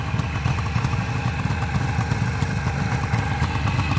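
A 1973 Suzuki GT550 motorcycle engine idles steadily up close, with a continuous rapid two-stroke burble and light mechanical clatter holding an even level throughout.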